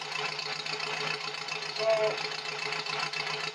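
A soaked-cylinder 1953 Farmall Super C tractor engine idles with a steady, low mechanical knocking rhythm at close range, while someone speaks briefly over it.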